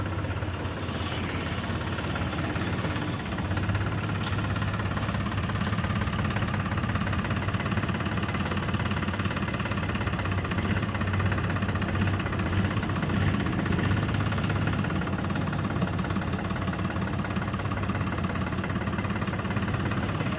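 A New Holland Excel four-wheel tractor engine idles in a steady, unbroken low drone that holds at an even loudness for the whole stretch, with no voices.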